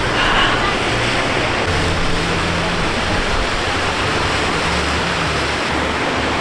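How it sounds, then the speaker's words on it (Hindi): Jang (Nuranang) waterfall in Tawang, Arunachal Pradesh, heard from right below it: a steady, loud broadband rush of falling water with constant low rumble, no clear breaks, alone without voices. "तो फिलहाल मैं हूँ जांग वाटरफॉल के नीचे"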